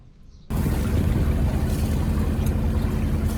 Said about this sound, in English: I've got the engine going so you can see how that works